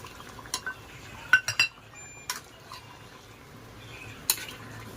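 Chicken with ginger-garlic paste and tomato being stirred and sautéed in a cooking pot: a soft low sizzle beneath scattered metallic clinks and scrapes of a spoon against the pot, close and fairly quiet.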